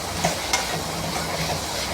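Mint and coriander leaves sauté in hot oil, giving a dense, even hiss of close sizzling with a couple of faint clicks from stirring.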